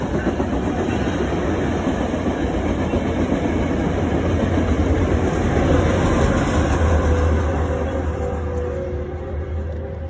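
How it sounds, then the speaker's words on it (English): A train rolls past a parking lot in a steady, loud, continuous rumble with rhythmic clickety-clack from the wagons. It fades slightly toward the end. "Okay, here's the train."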